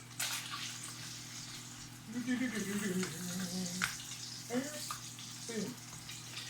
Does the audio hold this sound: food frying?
yes